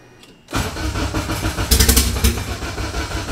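A car with no throttle cable, fed gas by hand, cranks over loudly and catches into a rough, uneven running start, close up and alone with no talk.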